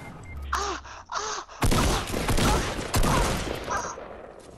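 Gunfire rings out in Fortnite: after two short whooping calls, a loud burst of rapid shots starts abruptly and continues in dense volleys with a second sharp onset, close and dominant, no talking.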